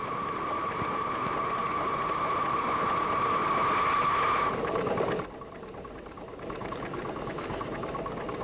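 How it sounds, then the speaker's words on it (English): A live steam locomotive drifting downgrade, snifting valves drawing in air, a steady airy hiss with a sustained whistling tone that cuts off partway, leaving a quieter rumble. "The drifting or snifting valves are pulling in air to the steam chest and up the stack."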